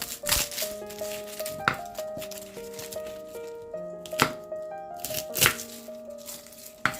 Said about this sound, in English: So now we're going to peel our garlic.